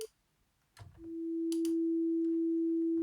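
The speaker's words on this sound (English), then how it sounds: "That's a sine wave with a slow attack." A plain sine wave played on an FM8 synth enters after a short pause and swells slowly to a steady, pure, sustained tone that holds alone, preceded by a few faint clicks.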